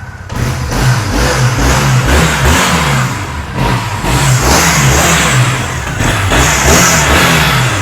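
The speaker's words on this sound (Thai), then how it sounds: "ลองฟังเสียงเครื่องยนต์กันดูนะครับ" A 2015 Triumph T100 Black air-cooled motorcycle engine runs close by and loud, revving repeatedly with a throbbing low pulse between throttle blips, heard with no talk.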